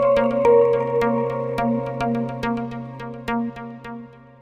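Short podcast theme tune for a tech show, a plucked, bell-like melodic loop over a sustained low tone, with regular struck notes about twice a second, clear and close with no talking.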